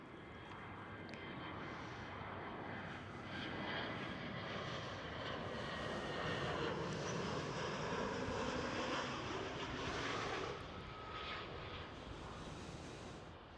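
An EasyJet Airbus A320 lands at Amsterdam Schiphol, its engines a broad, steady jet roar that builds and holds near the observer and then eases away toward the end, with no voices over it.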